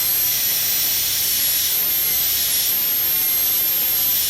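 A dental bur drills a maxillary molar during metal-ceramic crown preparation, a steady, loud high-pitched whine with hissing air and water spray that runs unbroken throughout.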